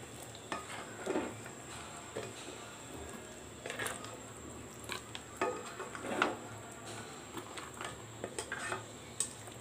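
A spoon scrapes and stirs beef and potato curry in a pan in intermittent bursts over a soft background sizzle, with occasional clinks against the pan.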